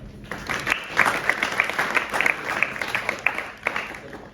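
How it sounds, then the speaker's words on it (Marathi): Students and staff applaud two guests during a college industrial visit, a room of clapping rising quickly to a steady patter and then thinning out, close and without talking. "त्या दोघांच्यासाठी एकदा टाळ्या"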